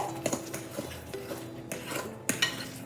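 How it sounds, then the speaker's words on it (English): Fork clinking against a bowl while salt, baking soda and other dry ingredients for a vegan almond cream cake are stirred together, a run of close, irregular metallic taps and scrapes with no talking. "Use a fork and then mix it until everything is incorporated."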